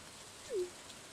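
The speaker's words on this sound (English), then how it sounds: "watching the curtains of rain whisper above a silent lake" Soft, steady rain falls over a quiet lake in a cozy farming video game, a faint even patter with a brief tonal chirp in the middle.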